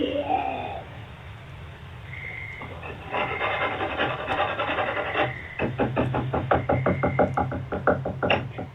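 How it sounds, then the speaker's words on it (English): Scratching and knocking on a back door at night, a rapid series of sharp wooden knocks following rubbing and scraping sounds, with a brief voice early on. "as they scratch and knock on the back door."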